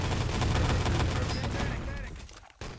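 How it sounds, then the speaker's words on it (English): Rifle grenade fired in the ET: Legacy video game, a loud dense burst of explosive gunfire that fades over under three seconds, with a commentator talking over it. "And Cinch going to find himself full from that nice rifle grenade coming out from Kupra."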